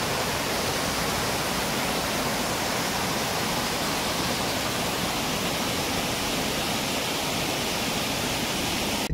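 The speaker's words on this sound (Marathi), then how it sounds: "इकडनं असा हा पाण्याचा झरा वाहत येत असा" A stream of water pours down as a waterfall beside jungle and rice fields, a loud continuous rushing roar with no other sounds.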